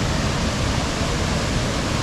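Large waterfall on Mount Kenya roaring as a steady, loud, unbroken broadband rush that fills the whole short stretch without pause.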